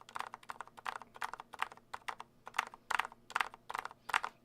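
Lubed Healios switches on a Keychron K6 keyboard typed fairly hard, giving a steady run of about a dozen close, crisp keystroke clacks in quick bursts, with no voices.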